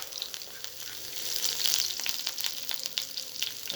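Garlic sizzles as it fries in a pan, a close, continuous hiss with small crackles that swells briefly in the middle.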